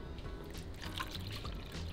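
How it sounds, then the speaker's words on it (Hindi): Water poured into a small decorative container, a faint, continuous trickle and splash in a quiet room, steady throughout with no speech. "ये डालेंगे इसमें पानी।"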